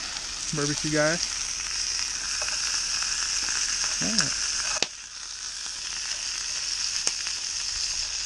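Meat sizzling on a tailgate barbecue grill, a steady bright crackling hiss throughout, close by, with a couple of brief squeaky whistles early on and a sharp click midway.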